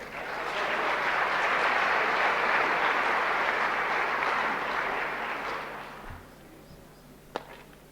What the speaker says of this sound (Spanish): Recibamos con un fuerte aplauso al señor José Antonio Quiroga